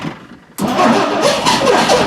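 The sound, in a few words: 1960 Dodge Dart Seneca starter cranking the engine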